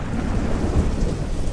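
Heavy rain pours down with low rolling thunder rumbling beneath it, a dense and loud storm wash with no voices.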